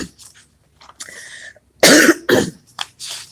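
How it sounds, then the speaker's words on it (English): Two sharp coughs close to the microphone, following a few quiet breaths and small mouth sounds. "excuse me, I got a little cough on today"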